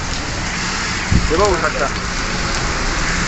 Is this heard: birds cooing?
no